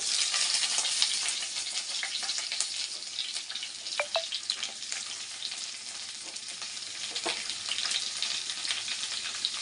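Onions fry in oil with curry leaves and garlic for a bitter gourd masala, giving a constant close hiss and crackle with a few stirring clinks, no voices.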